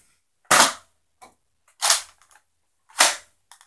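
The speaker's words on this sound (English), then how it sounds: "this gun does shoot very well" A toy dart gun fires three sharp, loud pops spaced about a second and a quarter apart, each followed by faint clicks and rattles of handling, with no voices.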